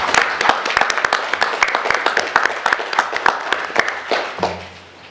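An audience at a meeting bursts into applause, dense clapping from many hands close by that thins and fades out over several seconds.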